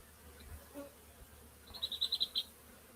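Honeybees at a six-frame hive give a short, pulsing buzz that rises close by for under a second, wavering in several quick swells over a quiet outdoor background.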